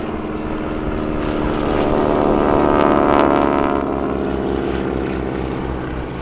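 A propeller aircraft with a welded steel tube fuselage and fabric-covered wooden wings drones overhead at an air show, its engine swelling louder midway as it passes, then easing slightly.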